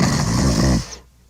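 Loud, close snoring in a NyQuil cold and flu radio ad: one long rasping inhaled snore that cuts off abruptly, followed by near silence.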